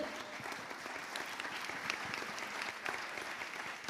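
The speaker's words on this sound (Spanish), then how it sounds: "un aplauso para este selecto panel" Audience applause for a selected panel at an architecture talk, a steady dense patter of many hands clapping at moderate, somewhat distant level, continuing evenly throughout with no voices.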